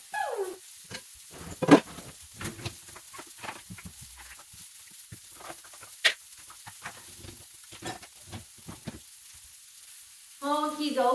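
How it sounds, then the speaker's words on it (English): Meatballs frying in a pan, a soft steady sizzle with faint crackles and pops and a couple of sharper clatters, quiet and close, ending in a short burst of louder noise. "So they're still sizzling away."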